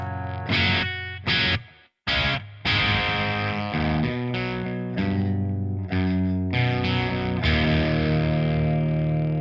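A clean electric guitar plays chords and single notes through a BluGuitar Amp1 Iridium Edition with bass lowered and mids and treble raised, a warm, slightly woolly tone and a touch of reverb tail.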